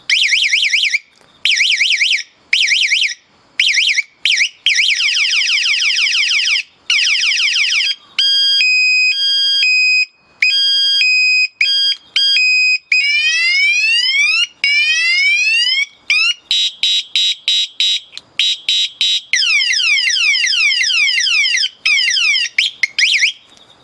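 Ultra-loud electronic bicycle bell horn cycling through six piercing alarm tones, rapid chirps, two-tone beeps and fast sweeping wails, very loud and close with brief gaps between patterns and no talking.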